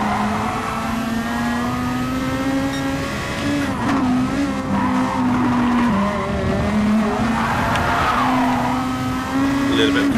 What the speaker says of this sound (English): A little bit of power slide there.